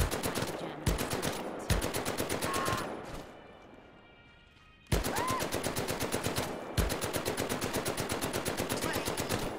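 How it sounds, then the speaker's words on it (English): An MP40 submachine gun in the video game Medal of Honor: Above and Beyond empties its magazine in rapid, evenly spaced bursts of close, loud automatic fire, broken by a brief quiet reload gap before the shooting resumes. "Firing the entire magazine at once."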